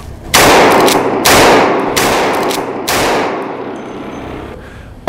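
Four loud, sharp gunshots from a .357 lever-action rifle, spaced about a second apart, each with a long ringing outdoor decay, and no talking.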